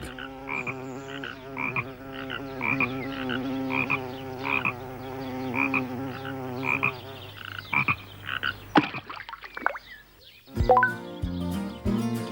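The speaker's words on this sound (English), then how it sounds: "Frog." A cartoon frog in a pond croaks in a steady, loud rhythmic series of repeated calls over a musical bed, ending in a few sharp sound effects and a short tune.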